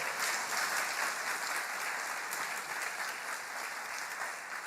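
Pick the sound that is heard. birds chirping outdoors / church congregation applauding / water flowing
church congregation applauding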